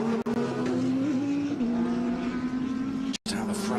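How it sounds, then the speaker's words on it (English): GT race car braking hard on the Sachsenring track in ADAC GT Masters racing, its front splitter rubbing the tarmac as the suspension compresses; a loud, steady engine drone with a shifting tone and brief cut-outs. "the front splitter is rubbing on the tarmac when the car brakes and the suspension compresses"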